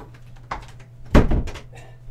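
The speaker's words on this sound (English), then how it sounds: "I'm going to just close the door." A door pushed shut indoors, one brief close thunk with a softer latch click just before and some faint rustling after.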